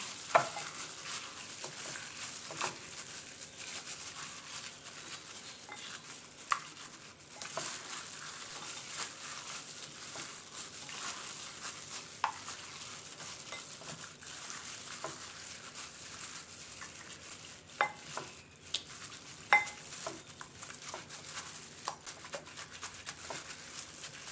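Hands knead and rub marinade into raw pork ribs for oven-baked ribs in sauce, producing soft, wet squelching and faint clicks, quiet and close, with no talk.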